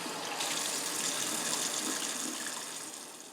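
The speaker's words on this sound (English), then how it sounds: "I would always recommend rinsing these out before you put this in your filter." Tap water runs steadily over an aquarium filter cartridge packed with black carbon pieces, making a continuous close splashing rush that tapers off slightly at the end, with no voices.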